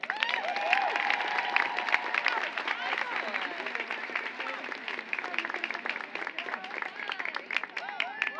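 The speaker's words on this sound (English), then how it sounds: "Another round of applause" Commencement audience at the 2022 CSUN College of Health and Human Development ceremony gives a sustained round of applause, dense and steady for the whole stretch, mixed with scattered cheers and voices from the crowd.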